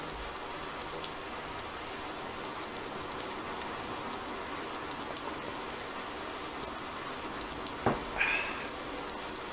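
Steady rain falls throughout a Landwirtschafts-Simulator 19 farming game scene, a constant hissing wash at moderate level, with a brief sharp knock and short bright chirp near the end.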